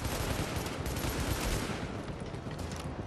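Gunfire in the video game Tom Clancy's The Division, a dense continuous burst of rapid shots with a rough, noisy texture, steady and fairly quiet throughout with no talk.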